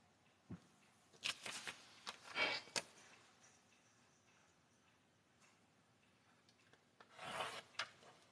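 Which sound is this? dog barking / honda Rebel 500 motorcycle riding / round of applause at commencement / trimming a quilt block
trimming a quilt block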